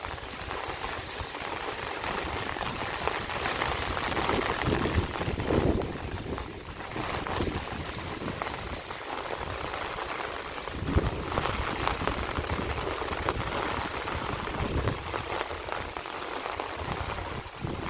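Continuous rushing of water flowing and overflowing during heavy rain, under a steady wash of falling rain, loud and unbroken throughout.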